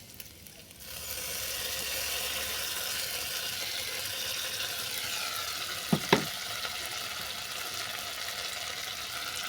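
Sesame paste hits a spice mix frying in oil and sizzles, a steady hissing crackle that starts after a moment and holds, broken by two sharp utensil clinks against the pan.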